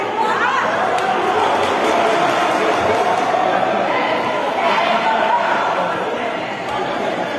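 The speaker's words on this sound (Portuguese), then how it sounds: "E a torcida está brava com o camisa 7 Mussum aqui do time do Visão" A futsal crowd at a Liga Sul-mato-grossense match between Visão and Betstar shouts angrily at a player, a steady, loud wash of massed voices with no letup, while a commentator talks over it.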